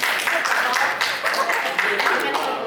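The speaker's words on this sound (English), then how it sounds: "clap your hands, please." An audience applauding at a negotiation skills training session, a steady patter of many hands clapping together for a few seconds, fairly close and even in loudness.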